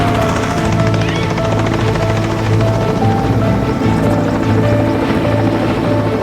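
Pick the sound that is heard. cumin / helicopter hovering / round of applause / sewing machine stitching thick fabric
helicopter hovering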